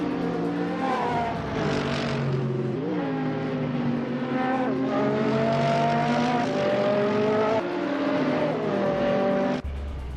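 A 2003 Ferrari 360 racing engine screams loud and close, revving up and down through gear changes in a race, with sustained high-pitched howling and a brief tire squeal before cutting off abruptly near the end.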